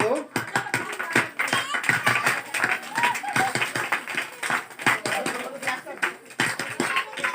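An audience claps together in a repeated 1-2, 1-2-3 rhythm, loud and close with children's voices, talking and cheering mixed in over the steady beat.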